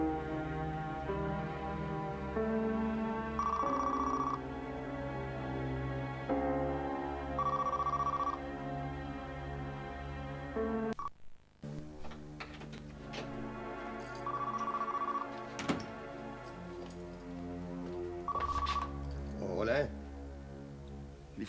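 An old-style telephone bell rings in repeated bursts under continuous dramatic background music, with people talking toward the end.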